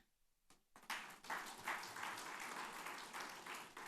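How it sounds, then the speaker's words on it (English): Audience applause for the Learn team at a LEARN 30th anniversary celebration, a dense wash of many hands clapping that bursts in after a brief quiet moment and holds steady at full strength. "Please give a big hand of applause to our Learn team"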